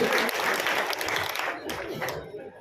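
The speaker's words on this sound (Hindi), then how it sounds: "जोरदार तालियों के साथ श्रीमान देवेंद्र जी" A crowd applauds steadily at a BJP candidate's election office event, dense clapping that fades out toward the end, with a voice speaking in Hindi over it.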